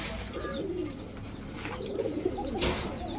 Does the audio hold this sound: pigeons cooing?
yes